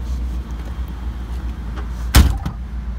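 A heavy door on a 1976 Cadillac Eldorado convertible slams shut once with a loud, deep thud and a short rattle, over steady low engine idle.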